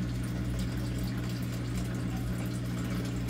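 Water fills and drains in an RV laundry setup, a steady rushing gurgle over a constant low pump-like hum, close and unbroken, with no voices.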